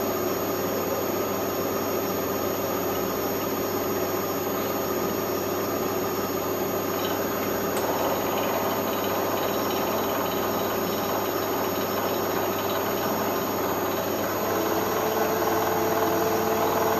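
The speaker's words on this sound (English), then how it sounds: "That's a 1-inch cutter and we're running at 1100 RPM." A milling machine spins a 1-inch cutter at 1100 RPM, giving a continuous loud whirring, hissing drone with a faint tonal whine, steady throughout with no talk.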